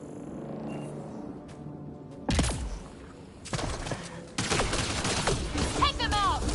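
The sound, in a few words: gunfire from Mass Effect Andromeda video game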